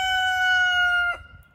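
A rooster crows once, a loud, clear, sustained call lasting about a second before cutting off, close and alone.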